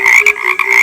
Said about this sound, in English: tries to sing and ends up croaking